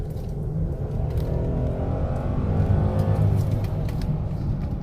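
Engine of a 2017 Mercedes GLS450 SUV, rated over 350 horsepower, accelerating under light throttle on a test drive: a steady, low, rumbling drone heard from inside the cabin, continuous and fairly loud, with no talk.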